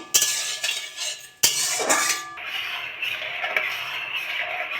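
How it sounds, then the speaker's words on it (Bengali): Sugar with a little water melting in a pan while being stirred with a metal utensil for a sweet recipe: spoon scrapes and clinks against the pan near and clear, followed by a steady soft hiss. "চিনিটাকে আমি একটু গলিয়ে নেব"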